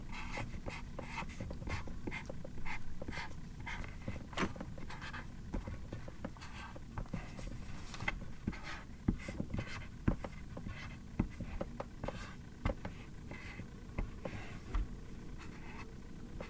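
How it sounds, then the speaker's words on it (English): A black marker writes on a DIY blind bag, making close, steady scratchy strokes with quick repeated taps and squeaks that run continuously for the whole stretch. "And in black, I'm just gonna write Poppet with question marks around it."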